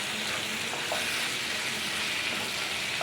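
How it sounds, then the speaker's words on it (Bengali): Garlic paste, chili and dried fish frying in a pan, a steady close hiss and sizzle running without pause. "এবং শুটকি একসাথে ভেজে নিচ্ছি।"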